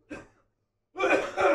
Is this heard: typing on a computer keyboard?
no